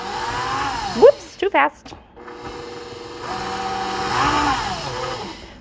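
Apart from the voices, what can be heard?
KitchenAid stand mixer mixing banana bread batter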